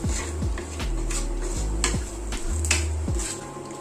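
Spices including Kashmiri chili powder and coriander powder are stirred in a pan for beef curry, with rhythmic scraping and metallic clinks of the spoon against the pan roughly every half second.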